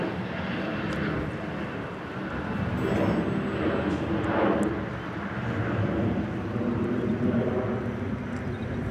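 An Embraer 175 airliner takes off at Indianapolis Airport with a broad, steady engine roar that swells and recedes slightly, heard from a distance and without talk.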